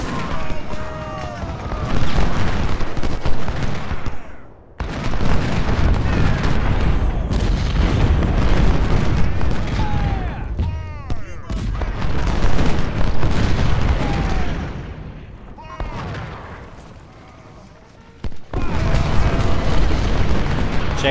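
Cannon and artillery fire in the Civil War strategy game Ultimate General, battle of Gaines Mill: heavy booms and rumbling blasts roll in overlapping waves with brief lulls, loud and close, with someone talking faintly between.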